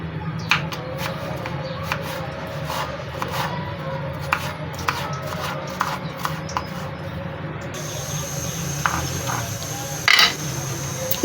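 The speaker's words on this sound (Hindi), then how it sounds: "आलू को इस तरह काट लेंगे बारीक बारीक।" Potatoes are finely chopped with a knife for pakoras, producing a steady stream of light, quick cuts against a background hiss, with a brief louder clatter near the end.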